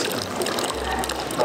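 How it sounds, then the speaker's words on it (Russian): Hot thermal spring water at 60 degrees gushing from a metal outlet at a Karlovy Vary spa spring, a loud close steady rush with a low pumping hum underneath. "Вода горячая, 60 градусов, на улице 10 градусов"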